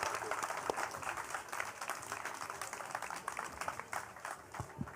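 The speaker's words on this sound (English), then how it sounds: "Guys, a huge round of applause, please." Audience applause at the close of a sports panel session on an outdoor beach stage, a steady wash of clapping across the whole stretch, moderately loud and somewhat diffuse, with no talk over it.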